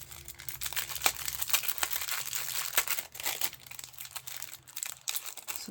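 Crinkly plastic packaging rustles and crumples continuously as a set of paper craft flowers is unwrapped, a close, steady crackling with sharper tearing bursts and no voices.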